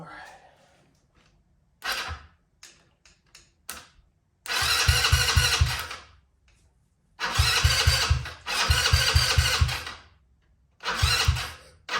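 A Maxxam 150 go-kart engine being restored is cranked several times, catching into loud sputtering bursts of a few seconds each that die out between quiet pauses, with a few brief clicks in the gaps.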